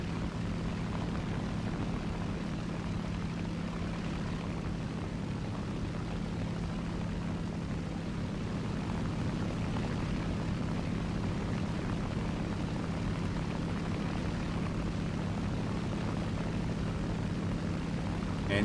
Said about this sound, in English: And he's taxiing off the end of the runway.